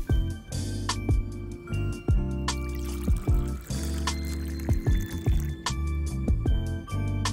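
Water pours and trickles into a container holding rice powder, baking powder and salt, with a near, uneven liquid splashing and gurgling over several seconds.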